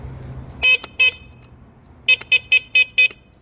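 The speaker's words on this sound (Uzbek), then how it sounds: "Signal qo'yilgan." Car horn honking in short loud bursts close by: two quick beeps, a pause, then five rapid beeps in a row, with no talking over them.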